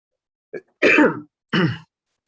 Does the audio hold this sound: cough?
yes